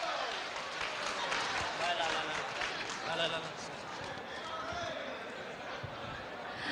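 An audience applauds at a clan association gathering, a steady clatter of clapping heard under someone speaking over the crowd.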